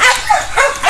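A Dogo Argentino dog in a garden gives quick, close, excited barks and yips, two or three short bursts in under a second.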